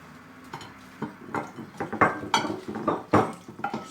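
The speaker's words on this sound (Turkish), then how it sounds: "şu cam kasemi boşaltayım" Glass bowl being emptied into another bowl while making a simple three-ingredient egg dessert: a run of clinks, knocks and pouring clatter at close range, irregular and moderately loud, with no talking.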